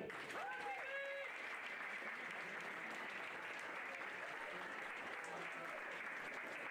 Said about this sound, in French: On l'applaudit bien fort, Sylvie Bléau.